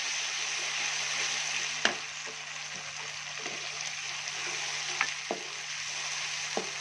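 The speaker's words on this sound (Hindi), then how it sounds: "अब ये इसमें डालेंगे अदरक लहसुन का पेस्ट। अच्छी तरह भूनें।" Ginger garlic paste frying with browned onions in a pan for an aloo gobi curry: a continuous close sizzle with a faint low hum underneath and a few sharp spoon clicks scattered through.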